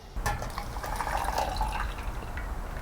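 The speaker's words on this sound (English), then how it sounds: "you can see it slowly dripping into the cup." Coffee trickling into a cup during a power outage, a soft steady splashing stream with faint drips, close and quiet throughout with no talk.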